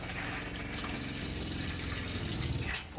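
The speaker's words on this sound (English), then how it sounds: "So water pump on, and then it'll run water." An RV water pump draws from the fresh water tank of a Wildwood X-Lite travel trailer, sending a steady loud gush of running water from a tap that stops abruptly near the end.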